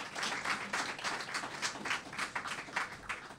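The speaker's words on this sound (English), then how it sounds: "Let us give our exporters, Export St. Lucia and ITC, a round of applause" Faint, thin applause from a small audience at an export packaging project handover ceremony, distinct rhythmic claps heard from a distance.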